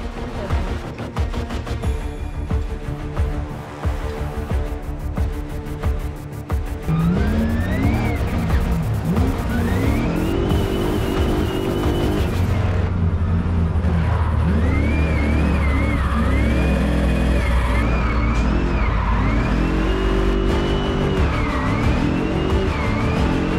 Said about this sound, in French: là, on va faire un petit tour de piste avec cette voiture.